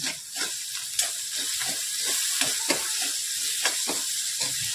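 Finely chopped tomato, seeds removed, fries in a pan with onion for a Maharashtrian gawari bhaji, a bright steady sizzle punctuated by repeated scraping stirs, close and with no voices.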